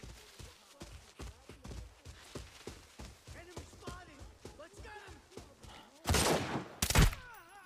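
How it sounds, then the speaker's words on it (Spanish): Gunfire in the video game Arena Breakout crackles in a quick, regular string of shots. A louder, denser volley comes near the end. "Pero aquí antes se escuchaba un disparo"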